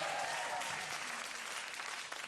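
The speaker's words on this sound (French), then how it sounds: "On applaudit Marie Trust." A comedy show audience bursts into dense, sustained applause for Marie Trust, a broad wash of many hands clapping at once, loud and continuous throughout.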